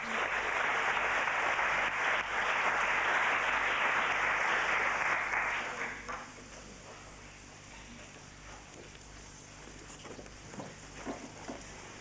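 Applause from the audience at a 1991 Jaycees junior public speaking contest rises in a dense burst for the contestants, then thins out into scattered claps and quiet room noise.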